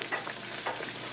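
Puri dough frying in hot oil gives off a brief, steady sizzling hiss with faint bubbling swells, close and even, with no voices.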